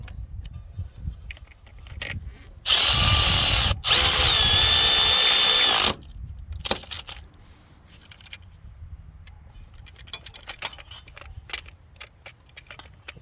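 Electric ratchet tightening bolts on a billet power steering pump bracket of a 1997 Jeep Grand Cherokee V8: two loud bursts of whirring motor, the second longer, bracketed by clinks and rattles of tools and hardware.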